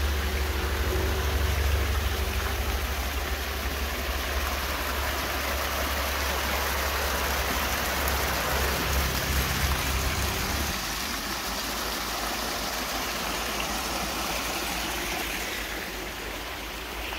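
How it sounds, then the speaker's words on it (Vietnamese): Heavy rain pouring at a house construction site during sand pumping, a dense continuous hiss with a low engine-like rumble beneath that fades partway through, steady and loud, with no talk. "Tại giờ này đang đổ mưa luôn."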